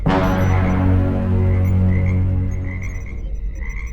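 A croaking frog used as a sound effect in a sci-fi sitcom audio drama: one loud, sustained, resonant croak that rings for several seconds and slowly fades, with no voices.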